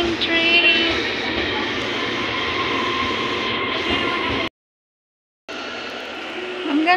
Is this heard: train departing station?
yes